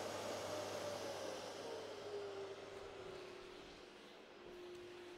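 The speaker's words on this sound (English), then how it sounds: "I turn my dust extractor's suction speed all the way down. I'll turn it on. You can hear it start." A dust extractor turned to its lowest suction speed runs as a steady, continuous whoosh of airflow with a faint low hum, near and constant throughout, with no talking.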